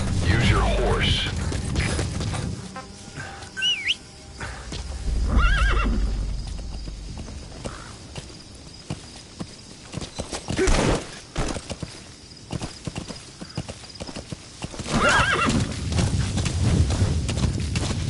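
A horse in Metal Gear Solid V snorts and whinnies several times over rhythmic clip-clop of hooves, loud and close, with scattered game effects and bursts of rumble.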